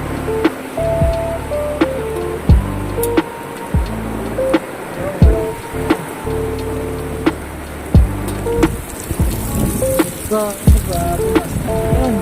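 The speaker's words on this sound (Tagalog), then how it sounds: "Grabe, lakas ng ulan." Heavy typhoon rain from Typhoon Carina in 2024 drums on a surface in a constant loud wash, with sharp thuds and tonal hums cutting through at intervals.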